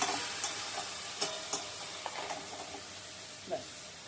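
A spoon stirs curry in a cooking pan over a soft sizzle, with a few sharp scrapes and clinks scattered through a quiet, steady frying hiss.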